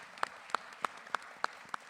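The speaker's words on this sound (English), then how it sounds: "Give her a round of applause." Six sharp, evenly spaced claps ring out at a slow, steady pace at a community education town hall held in a church, fairly quiet with a hushed room behind them.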